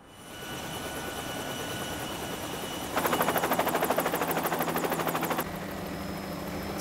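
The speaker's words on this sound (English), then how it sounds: "A helicopter?" A helicopter's rotor beats in a rapid pulsing chop that swells loud for a few seconds over a steady engine roar, in an anime series.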